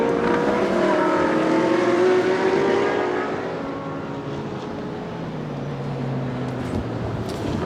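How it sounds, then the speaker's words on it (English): A Nissan race car, number 23, driven hard around Les Combes, its engine note sweeping through rising and falling revs as it passes, loud at first then fading slightly into the distance. "Nissan 23, is being manhandled around Les Combes,"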